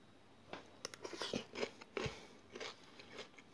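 Close, quiet chewing and biting on stewed potatoes with mushrooms, with soft irregular crunchy and wet mouth sounds during tasting and no speech.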